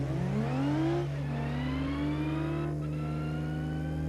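A 1-horsepower car in the BeamNG driving game revs steadily, its engine whine rising and falling in pitch over a constant low drone, loud and continuous with no talk.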